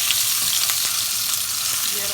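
Loud, continuous sizzling and frying from a hot pan, a dense steady hiss with small crackles, and no talking.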